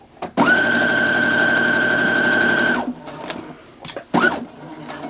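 A sewing machine back stitches a zipper bag. It whirs steadily and loudly for about two and a half seconds, then stops and gives a few short bursts of stitching with brief pauses between them.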